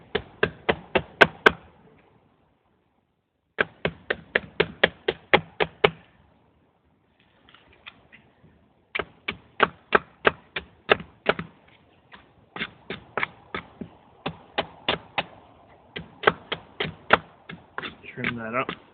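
A knife whittling a wooden wedge outdoors in winter: quick bursts of sharp, dry tapping and chopping strokes in rhythmic runs, separated by short pauses, close and crisp.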